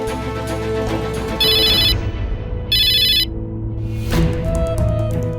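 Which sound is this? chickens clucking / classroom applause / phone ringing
phone ringing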